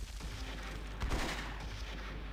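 Dense, muffled heavy machine gun fire rattles continuously in the tactical war game Close Combat, with a louder burst near the middle against a rumbling battlefield backdrop.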